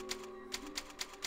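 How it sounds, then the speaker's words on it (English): Typewriter save point in the Resident Evil 4 video game, a series of crisp mechanical key strikes clacking at an even rhythm, five sharp taps over steady background game ambience. "at least there's a typewriter, so if I die"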